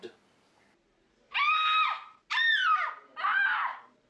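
A woman screams three times in a horror film, a dubbed voice in long, high, piercing cries separated by short silences. The screams are loud and close, with nothing else beneath them.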